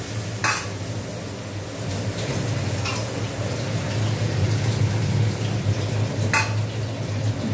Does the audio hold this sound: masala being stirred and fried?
yes